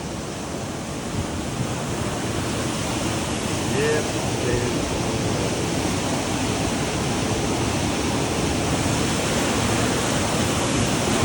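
Flood water rushes past in a steady, loud, broadband roar, continuous and close with no break, during a river flood in July.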